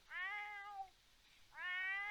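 Two clear meows from a cat in The Sims 4, the animal rubbing against a character's back during dog training, each call bright and sustained with a pause between them.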